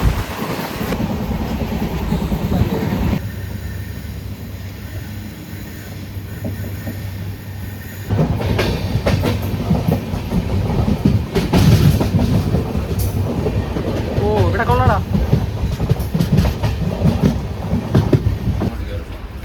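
A passenger train running along the rails on a trip to Kanyakumari: a continuous rumble with rhythmic clacking and occasional wheel squeals, heard from on board, with a sudden shift in loudness partway through and voices at times.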